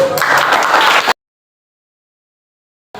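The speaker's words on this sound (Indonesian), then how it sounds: "Tepuk tangan." A short burst of applause from a school class, about a second of clapping that cuts off abruptly into silence.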